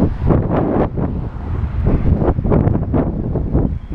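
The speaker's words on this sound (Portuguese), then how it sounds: "O vento ficou mais forte" Strong outdoor wind buffets the microphone in loud, rumbling gusts, a constant low roar that swells and fades throughout.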